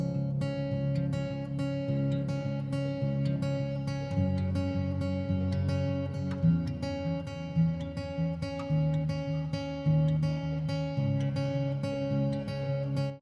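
An acoustic guitar demo passage in 5/4 time, recorded with a microphone blended with a direct signal, rings out in steady strummed and picked notes over a low sustained bed, moderately quiet and unaccompanied by speech.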